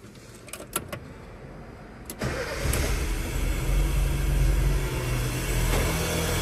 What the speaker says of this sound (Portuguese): O carro já dá para ligar ele, já está funcionando maravilhosamente bem.